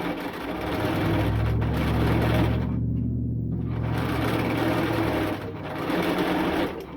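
A sewing machine with an even feed foot runs steadily, stitching the hem of a very stretchy T-shirt fabric, with a continuous near motor hum, a short pause midway, then stitching resumes.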